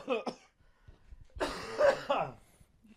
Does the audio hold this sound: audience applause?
no